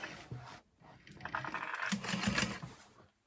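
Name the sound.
sewing machine stitching across the top of a bag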